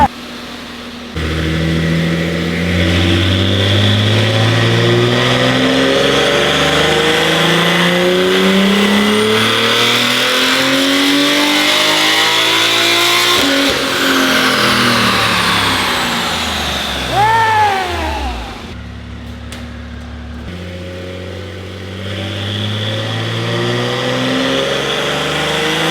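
A BMW M4 tuned to about 1200 horsepower on E85 fuel is run on a dyno in a short pull to around 4,500 rpm, its loud engine note climbing steadily, easing off, then revving again up close.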